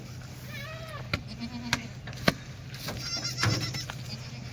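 Small Kathiawadi goats, some black and some red, bleat a few times in short wavering cries from nearby, mixed with sharp clicks and knocks and a low background hum on a farm.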